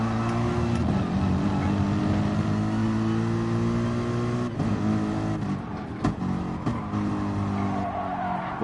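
A Mercedes AMG race car in a racing video game at Brands Hatch, its engine droning loud and steady at high revs, pitch dipping briefly with gear changes and some tire squeal.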